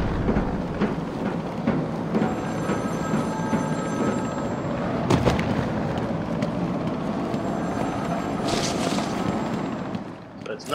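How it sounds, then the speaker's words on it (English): A telephone rings inside the video game Batman: Arkham City, its bell mixed into a steady, rumbling, storm-like game ambience throughout. "I am going to ignore that ringing phone for right now."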